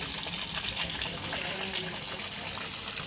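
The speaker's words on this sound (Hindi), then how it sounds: "पानी बह रहा है इतनी तेज।" Water gushing fast from a motor-driven pump on a rooftop, a steady, dense rushing hiss that holds at an even level throughout, close by with no pauses.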